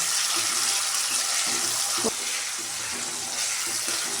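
Chopped tomatoes sautéing in oil in a pan over a low flame, a steady soft hiss and sizzle throughout with faint occasional stirring taps.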